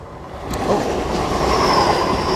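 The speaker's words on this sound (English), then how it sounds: "We'll just wait for the train to pass." A train rumbles past close by at Dawlish in Devon, a loud continuous roar of wheels on rail with a faint high squeal, no voices over it.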